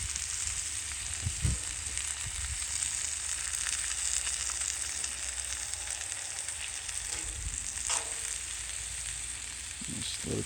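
Vegetables cook in a pan during an outdoor work break, giving a steady close sizzle and crackle that lasts throughout, with a few faint knocks and no voices.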